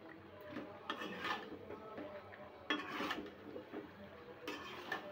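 Chicken being sautéed and stirred in a pot for a thin chicken curry, with a spoon scraping the pot in a few intermittent bursts over a soft, quiet background and no talk.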